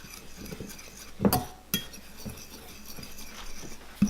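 Brownie batter with sugar and baking powder is stirred in a mug, with a spoon clinking against the ceramic in a few sharp taps among softer scraping, close and quiet.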